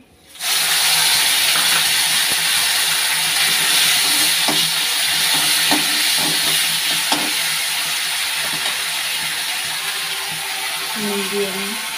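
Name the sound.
tomatoes added to a frying pan, sizzling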